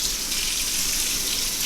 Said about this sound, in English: Then we're gonna take 220 grams of lukewarm water